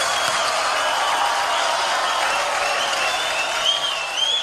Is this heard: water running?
no